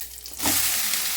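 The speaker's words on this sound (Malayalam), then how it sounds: "അത് പൊട്ടിക്കഴിഞ്ഞ് കരിവേപ്പില ഇട്ടെടുക്കുക." Curry leaves drop into hot oil just after mustard seeds have popped, setting off a sudden loud burst of hissing sizzle that carries on steadily to the end with no speech.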